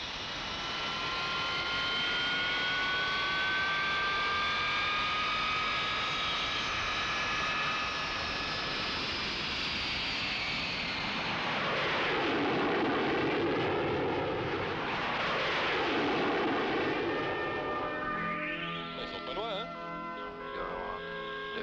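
Mirage F1-C jet fighters on a 1980 ferry flight to Djibouti roar steadily in flight, a loud, continuous engine drone with whining tones that shift and fade, while a voice talks over the later part.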